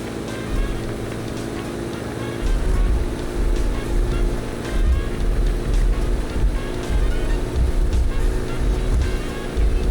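A van fitted with a Gearbox Pro drives at high speed in a Roblox game, its engine rumbling loud and steady, swelling after the first few seconds.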